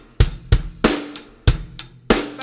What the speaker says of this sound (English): I'll get a medium tempo groove going, and then we'll play both of those sticking patterns round.